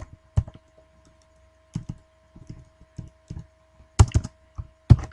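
A handful of scattered computer keyboard key presses, sharp and close, arriving in short irregular clusters with quiet gaps between them, like a quick Ctrl C shortcut.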